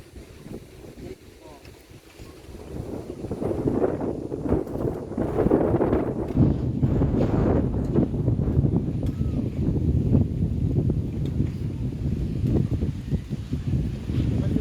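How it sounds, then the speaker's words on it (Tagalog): Strong wind gusts across an open house construction site where a beam is being installed, a loud, buffeting rumble that swells after a quieter start and keeps blasting the microphone, with faint voices underneath. "Grabe ang hangin."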